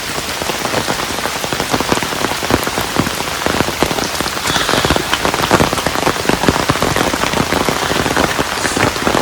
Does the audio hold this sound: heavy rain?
yes